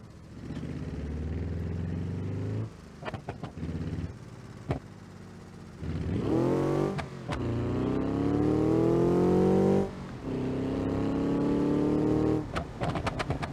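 A car in the BeamNG.drive racing game, a Roadkill project build, revs hard in repeated bursts, its engine note climbing and falling loudly with brief gaps between pulls, with no talk over it.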